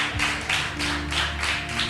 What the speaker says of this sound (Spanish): Bendecile con un fuerte aplauso a Dios si le estás creyendo